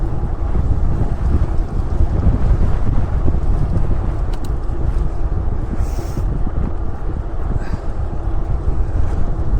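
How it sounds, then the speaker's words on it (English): Strong wind buffets the microphone continuously during an endurance training ride, a loud low roar that never lets up for the whole stretch. "I think we're about to have a whole lot of headwind come up."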